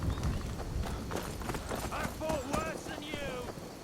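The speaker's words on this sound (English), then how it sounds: "Oh, the horses are attacking me now." Horses attack in the video game Skyrim, with fast, rhythmic hoof clip-clops under busy game sound and a voice speaking.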